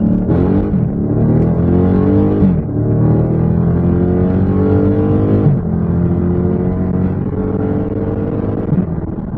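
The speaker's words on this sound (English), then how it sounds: "That's the muffler delete that everybody loves and talks about." A loud, deep exhaust from a Dodge Charger Scat Pack 6.4L V8 with a muffler delete roars continuously up close, rising and falling in pitch as the engine revs through gear changes.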